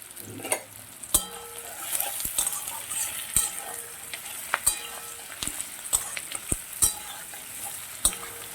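Onion, diced capsicum and chopped green chilli stir-frying for restaurant-style chilli chicken, a close continuous sizzle punctuated by sharp clicks and scrapes of a spatula against the pan.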